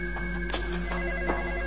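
A telephone rings in a steady electronic tone with regular pulsing beats, loud and close, with no voices over it.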